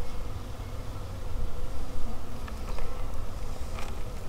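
A dense, continuous buzzing of many bees close by, a steady droning hum with no talking.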